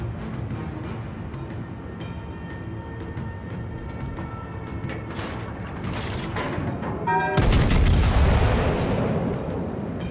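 Heavy naval guns boom in a World of Warships battle, destroying a fort, with repeated sharp blasts and a dense, louder barrage near the end.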